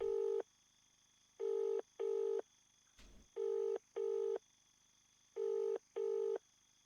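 A cellphone in a Filipino horror video game about a sari-sari store sounds out four pairs of short, identical dialing tones in a regular rhythm, clean and close, with a faint background hum and a brief soft noise between pairs.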